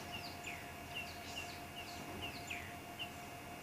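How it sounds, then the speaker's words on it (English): Drongos and other birds gathering around a termite mound on a sunset safari drive at Nkuhumas, giving repeated short chirps and whistled calls scattered around at moderate distance over a steady low background hum. "I can just hear bird calls all around me."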